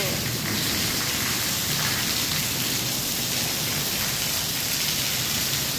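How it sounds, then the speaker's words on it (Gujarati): Steady rain falls heavily and continuously, a dense even hiss of drops on surfaces with no pauses. "વરસાદ ચાલુ જ છે. બપોરનો શરૂ થયો છે."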